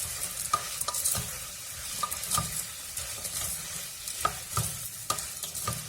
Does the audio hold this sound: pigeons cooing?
no